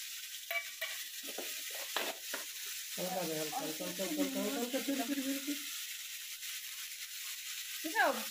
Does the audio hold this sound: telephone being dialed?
no